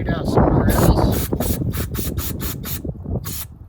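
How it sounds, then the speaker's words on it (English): Carburetor cleaner sprayed in bursts into the small holes of a Hyundai generator carburetor during a repair, a close hissing spray first steady and then broken into short repeated puffs. "We're just going to take the cleaner, poke in all the little holes, and spray it"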